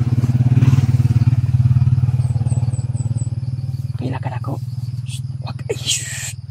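A motorcycle engine drones steadily nearby, its low rumbling hum holding throughout while a few brief clatters and faint sounds break in near the end.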